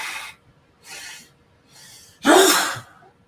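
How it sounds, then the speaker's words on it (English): A single person's sneeze, preceded by a few soft breathy inhales and ending in one sharp, loud burst of air, close to the microphone in a quiet room. "And I'm going to sneeze here in a second."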